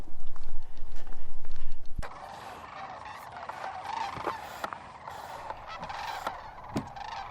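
Flocks of sandhill cranes at Pixley National Wildlife Refuge, a dense, continuous chorus of rolling, trumpeting calls from many birds at a distance, preceded by a brief stretch of low rumbling wind noise.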